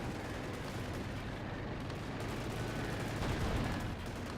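Rifle grenade shots and explosions in the strategy video game Company of Heroes, heard as a dense, steady rumble of distant gunfire and blasts with one slightly louder burst near the end.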